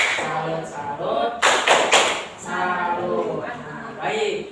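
Fifth-grade children in a classroom do a rhythmic clapping cheer. A short burst of sharp, quick claps comes in the middle, with chanting voices before and after.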